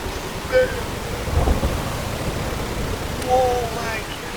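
Steady rain and rumbling thunder from a harsh storm at sea in the Stormworks video game form a continuous wash, with swells at intervals and a few faint tonal blips.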